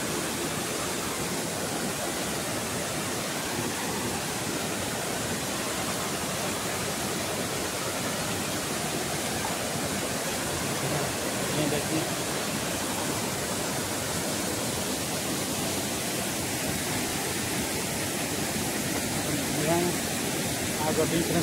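The Vale das Ostras waterfall, a cascade spilling into clear natural pools, gives a steady, dense rush of falling water, constant and fairly close, filling the whole stretch without a break.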